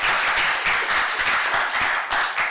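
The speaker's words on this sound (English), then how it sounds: "Let's give a big round of applause to our speakers." Steady round of applause from a conference audience after closing remarks, dense and even clapping throughout the short clip.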